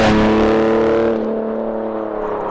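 A BMW E46 330Cd diesel, tuned past 400 hp and 800 Nm, revs hard toward its limiter: a loud, close, harmonic engine roar held high, then easing slightly toward the end.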